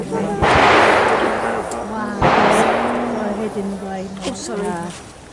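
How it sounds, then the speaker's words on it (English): Gunfire from a nearby shooting range in Southeast Asia: two sharp, booming reports a couple of seconds apart, somewhat distant, heard beneath a person talking. "The gunshots in the background are from the shooting range nearby."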